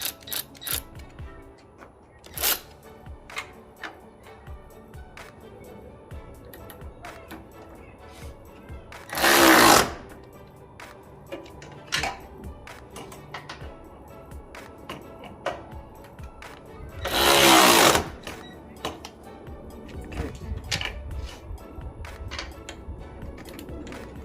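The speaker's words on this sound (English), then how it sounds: "let's go and tighten it down with our cordless ratchet" Cordless ratchet tightening strut bar bolts on a 2015 Lexus RC 350, two loud buzzing bursts of a few seconds each, separated by quieter clicks and handling noise.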